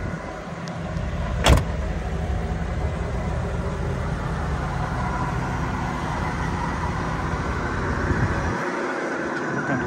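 Electric power windows on a 1989 Chevrolet Camaro convertible run with a steady motor hum lasting several seconds. A sharp click comes near the start, and there is no talk.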